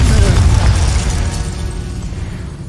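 A Confringo spell explosion erupts in the video game Hogwarts Legacy, a loud, dense fiery blast that rumbles and slowly fades over a couple of seconds.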